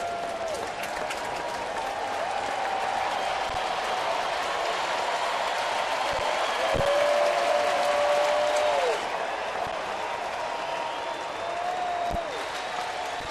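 Baseball stadium crowd at a Yankees at Orioles game in Baltimore, sustained loud cheering and applause rolling on throughout, swelling midway, with faint announcer voices underneath.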